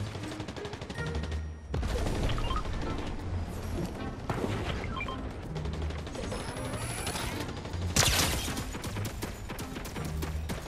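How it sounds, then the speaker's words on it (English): Rapid video game gunfire crackles in dense, overlapping bursts of shots and impacts. It runs almost continuously and fairly loud, with a sharper, heavier volley near the end. "Hey, why are you shooting?"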